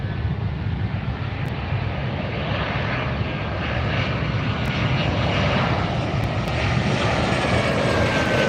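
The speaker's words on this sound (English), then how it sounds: "This is Southwest Airlines 639 coming in from Austin. A Boeing 737 left Austin about 2 hours 40 minutes ago." A Southwest Airlines Boeing 737 arrives on the runway at LAX, its jet engines a loud, steady, broadband roar that holds evenly throughout with no voices.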